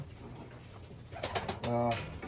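A breeder pigeon coos low and throaty close by near the end, after some soft rustling and a person speaking briefly.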